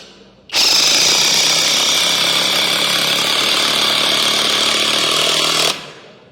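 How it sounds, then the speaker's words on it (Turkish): A Retools 800 Nm power tool drives a fully threaded 20 cm screw into pine wood, a loud, steady high-pitched whir that starts abruptly, holds for about five seconds, then winds down. "Burada da yine aynı çam ağacımıza tam dişli 20 santimlik buldex vida atıyorum."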